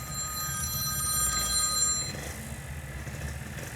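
A telephone rings with a steady electronic bell tone for about two seconds as an Uber driver calls, then stops, leaving a low idling-car rumble underneath.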